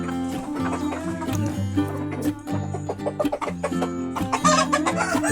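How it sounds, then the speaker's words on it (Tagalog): Heritage chickens and roosters cluck and chatter continuously in a backyard farm, several birds close by with overlapping calls and brief louder squawks, no speech. "Dagko na po itong mga manok."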